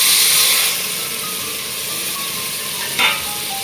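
Tomatoes hitting a hot pan for salmon sinigang, a strong sizzle that settles into a steady hiss with a brief clatter near the end, close and without talk.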